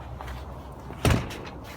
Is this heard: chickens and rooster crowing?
no